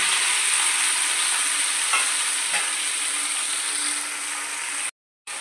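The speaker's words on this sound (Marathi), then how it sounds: "तेल तापलं आहे, कढईमध्ये भेंडी टाकून घ्यायची" Okra frying in hot oil in a kadhai gives a steady, loud sizzle throughout, with a couple of faint clicks, then a short silent gap near the end.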